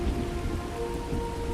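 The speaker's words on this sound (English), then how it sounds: "Okay, it's all rainy." Steady, dense rainfall patters continuously across a Starfield game world, an even wash of rain with no voices.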